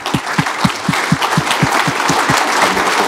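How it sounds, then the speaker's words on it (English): Warm audience applause welcomes a speaker at a talk: a crowd's steady clapping, with one nearby pair of hands striking a distinct, regular beat about four times a second throughout. "please give a warm applause for John Vervaeke"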